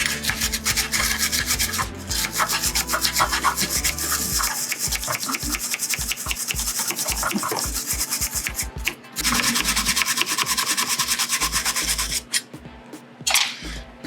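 Acrystol cleaner is rubbed onto a Porsche 914 relay board in steady back-and-forth scrubbing strokes, loud and close, with brief pauses between bursts.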